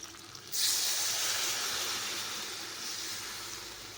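Water pours into a hot pan of roasted dal and peanut powder for drumstick amti, bursting into a loud sudden hiss of steam that then settles into a steady sizzle, with no talking.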